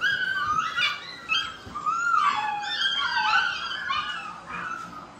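Several puppies whimper and yip in high, wavering cries that overlap almost without pause, fairly close and steady in level, with no talking over them.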